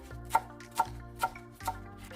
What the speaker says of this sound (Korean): 깻잎 5장의 꼭지를 제거 후 잘게 썰어줍니다.